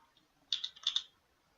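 A computer keyboard is typed on in a few quick clicks, a short burst of four or five close keystrokes in the middle of a quiet stretch.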